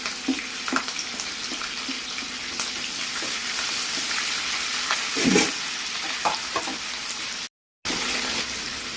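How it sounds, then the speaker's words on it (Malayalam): Green chillies and curry leaves sizzle loudly in hot oil in a pan, a dense, steady frying hiss with a few stirring knocks, broken by a brief moment of silence near the end. "ഇനി നമുക്ക് പച്ചമുളക് ഇട്ട് കൊടുക്കാം കറിവേപ്പില ഇട്ട് കൊടുക്കാം"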